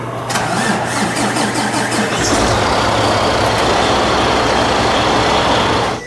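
A diesel truck engine on a homemade RV puller cranks briefly, then catches and settles into a loud, steady, rumbling idle close by.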